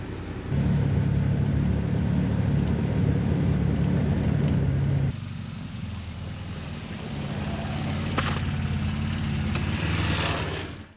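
A 2023 Can-Am Defender Limited HD10 side-by-side driving through snow, a loud steady engine drone heard from on board that drops partway through and then builds again, with no talk.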